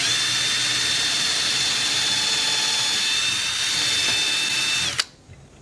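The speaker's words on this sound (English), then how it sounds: "First one, I'm going to just drill the hole for the screws." A power drill bores screw holes into wood while a parking lot light is being mounted on a warehouse, giving a steady, high, close-up whine for about five seconds before it cuts off.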